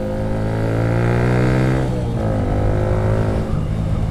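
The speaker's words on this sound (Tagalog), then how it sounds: "rev match downshift yun" A car engine revs sharply during a rev-matched downshift, its steady harmonic drone climbing, dipping briefly, then settling into engine braking, loud and close with no talking.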